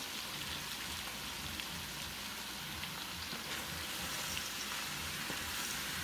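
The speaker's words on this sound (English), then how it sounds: "next we're gonna add the peas and carrots. This is a 16 ounce bag and they are frozen peas and carrots" A soft, steady hiss and crackle comes from a pot of sausage pot pie filling as a 16-ounce bag of frozen peas and carrots goes in, a faint continuous sizzle with no speech.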